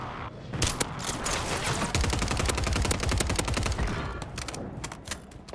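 Kar98 rifle fire in a buy-back solos video game match: a dense, sustained barrage of overlapping gunshots that rolls on for several seconds, loud and unbroken, with no talk.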